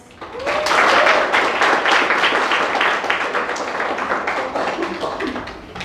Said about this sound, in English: Everyone give applause.